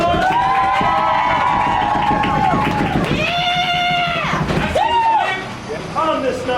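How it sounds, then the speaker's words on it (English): A crowd cheering and whooping for the cast of a haunted attraction, loud, close voices shouting and hollering in overlapping bursts that rise and fall, with excited yelling throughout. "Give them a motherfucking round of applause."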